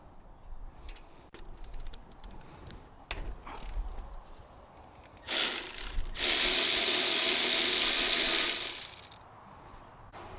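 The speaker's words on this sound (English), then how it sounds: "this is about how much we loosen the bolt from the front motor mount" On a Toyota Camry, a tool loosens the front motor mount bolt: scattered metallic clicks and taps at first, then a loud, sustained mechanical whirring burst of several seconds, close by, before it cuts off.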